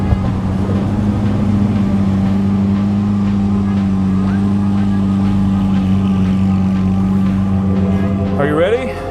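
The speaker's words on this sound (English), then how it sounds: "I can, however, demonstrate another supercar feat. That is going from 0 miles an hour to 100 miles an hour," A supercar accelerates hard from a standstill to 100 mph and brakes, its engine a loud, steady, continuous roar rising in pitch, with talk running over it and a brief change near the end.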